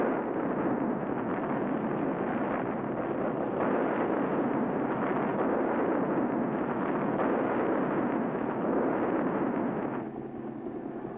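A military helicopter fires 2.75-inch rockets. The result is a continuous, dense roar of blasts and rumbling fire that holds steady and loud for about ten seconds, then drops off slightly toward the end.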